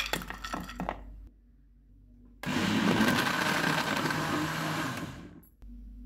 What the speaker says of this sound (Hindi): इनको ब्लेंड करेंगे।